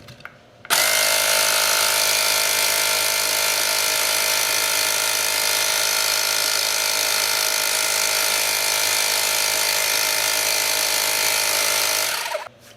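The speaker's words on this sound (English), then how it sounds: "I mean, I imagine it's a small air compressor." X8 Apex portable tire inflator air compressor switching on and running with a loud, steady buzzing drone for about eleven seconds, then cutting off abruptly.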